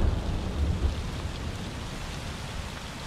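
Rain falls steadily over the Serra da Canastra savanna-like cerrado in Brazil while low thunder rumbles in the opening second, then a dense, even hiss of rainfall carries on alone.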